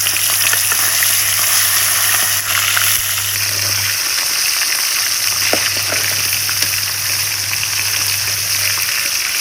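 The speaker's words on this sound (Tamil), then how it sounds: "இப்படி எண்ணெய் ஊற்றி போட்டாதே மீன் மண்டை நல்லா பொரியும்" Fish heads deep frying in hot oil in a village-style kitchen, a loud steady sizzle and crackle with a low hum beneath, running continuously with a few brief pops.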